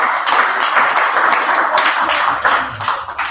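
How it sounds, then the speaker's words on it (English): Audience at a business opportunity meeting in Las Vegas applauding, a steady dense wash of clapping that holds for a few seconds at fairly close range, with a slight rise near the end. "Give me a round of applause."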